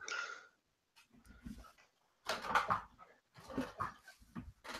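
A dog indoors whimpering in short high whines and panting in quick breathy bursts, near and fairly quiet, with pauses of silence between the bouts and no talking.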